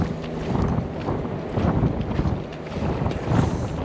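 Wind blows steadily across the microphone on a beach on Hilton Head Island during surf fishing, producing a loud, rumbling buffet in repeated gusty surges with no speech.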